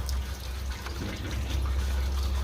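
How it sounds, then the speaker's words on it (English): A parts washer recirculating its washing fluid while distributors are overhauled, a steady close trickle and gush of liquid over a low pump hum, continuous and moderately loud. "It's a great piece of kit, this, because it recycles, obviously, the washing stuff, the washing fluid"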